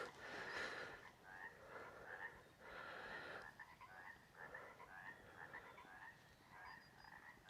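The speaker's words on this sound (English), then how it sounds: "I found the frogs again." Frogs croak in a mountain meadow near a stream, a steady chorus of rasping calls pulsing in repeated bursts, fairly faint and distant, with no talking.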